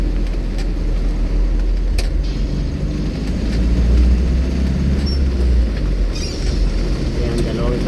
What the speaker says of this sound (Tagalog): Ayan, dalawang truck na kasunod.